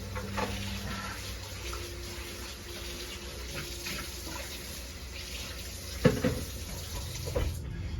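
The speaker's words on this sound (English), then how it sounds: "I'm going to rinse this out really good and dry it out." A bowl used for Dutch oven bread dough is rinsed under a running kitchen tap, giving a steady hiss of water with small splashes and one clunk of the bowl against the sink, with no talk.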